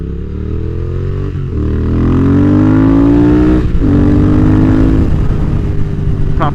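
A Mini Cooper S turbo car and a British motorcycle driving on the road, a loud, steady engine drone rising in pitch as they accelerate, with brief gear-change dips along the way.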